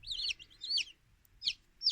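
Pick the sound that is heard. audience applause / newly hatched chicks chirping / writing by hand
newly hatched chicks chirping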